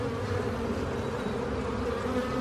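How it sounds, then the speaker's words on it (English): A steady, dense buzzing of many honeybees inside a recently installed hive during a beekeeping inspection, close and continuous, with no voices. "Look at the little bees in the hole there."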